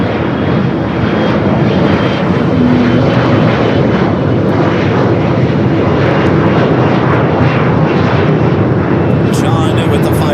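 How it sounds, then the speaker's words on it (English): A converted Boeing 747-400 freighter takes off from Los Angeles airport, its engines roaring loud and steady throughout, a broad continuous rumble with a rising whine near the end. "a converted 747-400 freighter"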